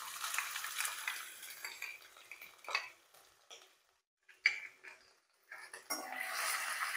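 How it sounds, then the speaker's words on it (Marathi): Ginger and green chilies sautéing in hot peanut oil, with a spoon scraping and clinking against the pan over a faint sizzle, in uneven bursts with short pauses and no talking. "तेल गरम झालं की आलं आणि मिरची टाकून घ्यायचं आहे आपल्याला."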